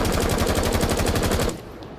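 Thatcher's gun in Rainbow Six Siege firing a rapid, loud automatic burst of about a second and a half, with dense, evenly spaced shots that cut off abruptly, followed by a brief quieter tail.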